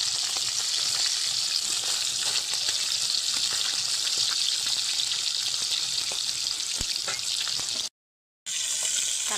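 Rohu fish sizzles in hot oil in a pan, a dense, steady crackling hiss with small pops that runs continuously and cuts out briefly near the end.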